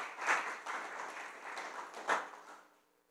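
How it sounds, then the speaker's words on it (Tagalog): Church congregation applauding after a sermon, a soft, distant wash of clapping that swells twice and then fades out. "Sige, malakas sa palakpak sa Kanya."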